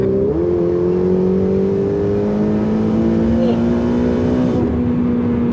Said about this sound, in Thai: พอกดคันเร่งไปมันมีเสียงขึ้นมาเลยนะฮะ เสียงมันจะมีเสียงโบเข้ามาด้วยเห็นไหม